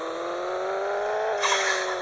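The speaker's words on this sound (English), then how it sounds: "that wastegate makes it go." A turbocharged car in the video game Pixel Car Racer drones at a steady engine tone, then the turbo wastegate lets out a short hissing burst of released pressure near the end.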